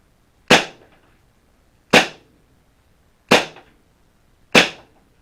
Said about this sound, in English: I'm just going to take some single shots and just watch the gun itself for how the gun moves.